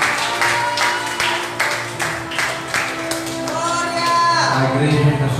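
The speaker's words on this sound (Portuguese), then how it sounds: "Você pode aplaudir o nome de Deus." A church congregation applauds together during a worship service, a steady wash of clapping that pulses in waves, with a voice and some music rising over it toward the end.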